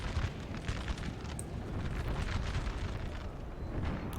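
Napoleonic-era artillery fire and battle noise in the strategy game Napoleon: Total War, a dense rumbling wash of distant cannon booms and bursts running continuously without speech.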